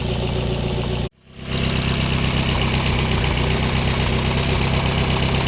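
A Lotus Esprit engine idles steadily as it warms up, a loud, close, even drone that cuts out for a fraction of a second before settling back into the same continuous idle.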